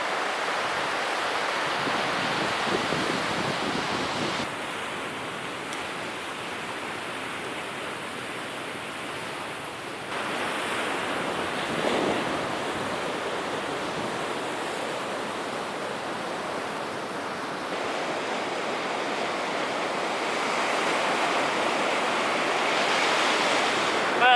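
Ocean surf rolling onto a beach on the Bibbulmun Track between Northcliffe and Albany, with wind, a loud continuous roar of breaking waves and gusts rising and falling across the whole stretch, with no voices.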